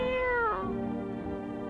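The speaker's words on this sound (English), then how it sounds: "You reach out and pet the cat." A cat meows inside the video game No, I'm Not a Human while it is being petted, a single drawn-out meow that bends downward, close and clear, with a steady game-music hum beneath it.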